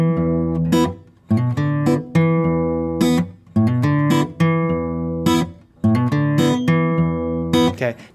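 An electric guitar plays the second riff of a blues song, a repeating blues figure of plucked notes and sharp attacks in a steady loping rhythm, loud and close with no voices.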